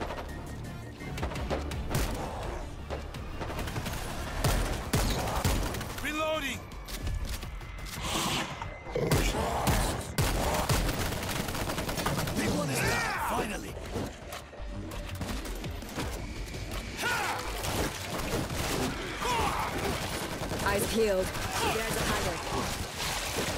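Gunfire aimed at zombies on a bridge in World War Z's Tokyo level, loud and dense, with bursts and impacts layered over game music and effects while players shout.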